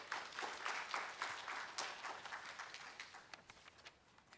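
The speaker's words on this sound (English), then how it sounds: "Let's clap for Dr. Christine once again" Faint applause from an audience after a talk on pandemic preparedness, scattered clapping that swells briefly then gradually thins out over a few seconds.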